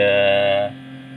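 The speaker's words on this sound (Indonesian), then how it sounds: "Timernya bergetar ya" Steady electrical buzz from the vibrating defrost timer of a two-door Polytron refrigerator, loud and close, dropping abruptly to a quieter hum partway through.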